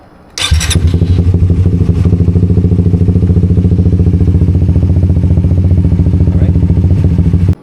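A Suzuki GSX 150 motorcycle fitted with a new lithium-ion battery cranks and fires up, then settles into a loud, steady, close idle with a rapid even rhythm that continues to the end.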